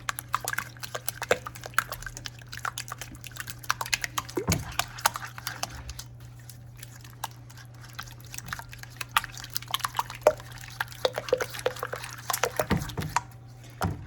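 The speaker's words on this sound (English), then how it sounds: "we also just want to whisk those eggs" Eggs are whisked in a bowl for noodle kugel with quick, light, irregular clicks and taps that run steadily at close range over a low background hum.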